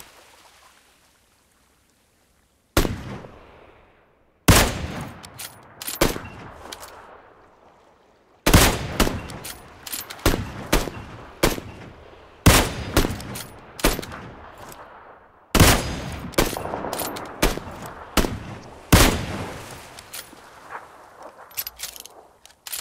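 Gunfire in the shooter game PUBG Lite near a bridge and warehouses, with sharp single shots and short bursts scattered irregularly over the span, some loud and close, others softer, and no speech.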